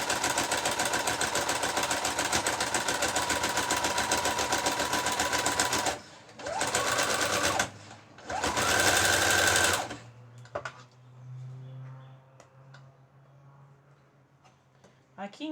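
A sewing machine stitches fabric for a panettone cover, a loud fast rhythmic whirring run that stops, restarts in two short bursts, then gives way to quieter handling sounds and a voice speaking.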